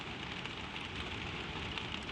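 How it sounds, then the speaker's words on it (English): Steady rain falls outside an old windmill bedroom, a dense, even patter of drops and hiss that continues without break at moderate level, with no voices. "the rain goes on"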